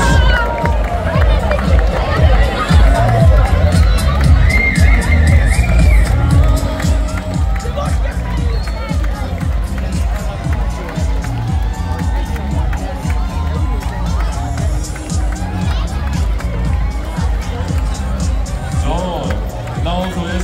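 Spectators clapping and cheering for runners along the Frankfurt Marathon 2024 course, a continuous crowd roar with footsteps and babble, loud and sustained, with a voice talking over it.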